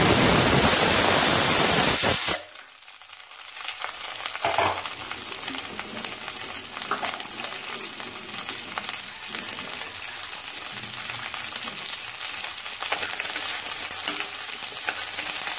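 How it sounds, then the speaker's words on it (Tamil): Okra (ladies finger) sautéing in hot oil for a mango and okra sambar, opening with a loud roaring hiss as it hits the pan, then settling into a steady, continuous sizzle with occasional stirring, no talking. "வெண்டைக்காயை முதல்ல வதக்கி எடுத்து வச்சுக்கலாம்"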